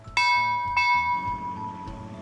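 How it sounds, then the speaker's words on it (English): A bell rung by hand to summon a ferry across the River Dart, struck twice with bright, ringing tones that sustain and slowly fade, close and fairly loud. "all I need to do is ring this bell, and a boat's going to appear to take me"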